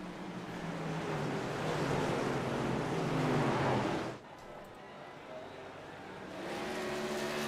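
Race cars roar around the track at Myrtle Beach under the green flag, a dense steady engine drone that drops off abruptly partway through, then swells back up as the field returns.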